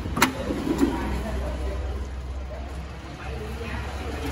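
A Yanmar YM357A tractor engine runs steadily with a low, continuous drone, opening with a couple of short sharp knocks and then settling into an even rumble throughout.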